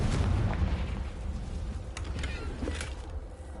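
A Confringo blasting spell explodes in Hogwarts Legacy, a deep rumbling boom with a few sharper pops layered over continuous low game noise, loud and sustained throughout.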